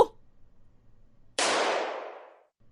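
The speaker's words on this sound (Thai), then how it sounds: "เสียงปืนอันรุนแรงก็ดังก้องอย่างฉับพลัน" After near silence, one sudden sharp bang erupts and rings out, its echo fading over about a second.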